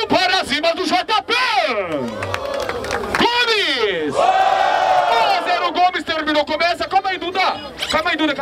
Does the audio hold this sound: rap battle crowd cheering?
yes